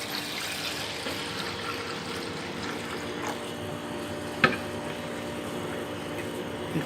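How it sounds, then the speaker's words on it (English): Chilled transfer buffer for electrophoresis is poured into a lab apparatus, giving a steady, moderately close liquid trickle that continues throughout, with one brief sharp clink midway and no talking. "Pour sufficient buffer."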